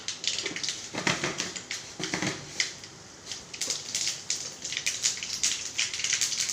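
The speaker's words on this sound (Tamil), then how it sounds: "கடுகு நல்லா வெடிச்சிட்டு" Rapid irregular crackling and sharp pops of mustard seeds spluttering in hot oil, close up, in bursts that thicken and thin without any talk.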